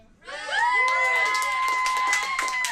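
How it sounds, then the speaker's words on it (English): A pub crowd at a live podcast recording cheers loudly to vote for a red hat, with sustained whoops and high-pitched shouts rising suddenly and holding for a couple of seconds. "give us a cheer for red."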